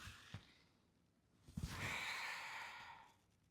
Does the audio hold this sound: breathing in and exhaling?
yes